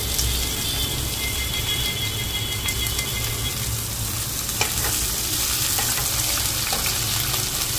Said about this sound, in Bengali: একটা মিডিয়াম সাইজের পেঁয়াজকে কুচনো আছে, ওটাকে তেলে ভালো করে কষা হচ্ছে।